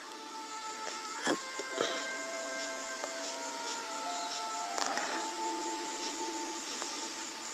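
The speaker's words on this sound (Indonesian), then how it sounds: "setelah bikin ukuran baru kita print" An inkjet-style printer runs a stamp design, its whirring carriage moving steadily with a few brief clicks and paper-feed clunks, close and fairly quiet, with no one talking.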